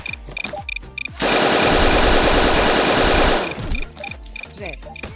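Rapid automatic gunfire from a tree-climbing shooter video game bursts loud and sustained for about two seconds, framed by sharp single game shots and in-game effects before and after.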